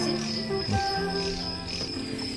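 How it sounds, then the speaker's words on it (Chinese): Crickets chirp at night on a hillside by a quiet guesthouse near Liuxi Lake in Conghua, giving a steady, continuous high trill that runs through the whole moment alongside other faint background sounds. "所以好多蟋蟀喺度叫"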